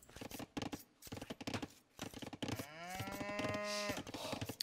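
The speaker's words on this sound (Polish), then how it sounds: "Krówka sobie muczy." A cow moos in the Age of Empires strategy game, one long harmonic low call rising and holding for over a second, set among brief clicky game effects and unit sounds.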